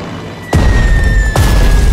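Artillery attack explosions in the strategy game Strategic Mind Blitzkrieg: two loud, deep booms in quick succession, each a sharp blast followed by a heavy rumbling tail under a sustained tone.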